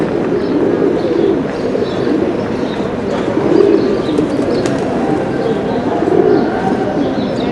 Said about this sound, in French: Maintenant, il y a déjà les pigeons.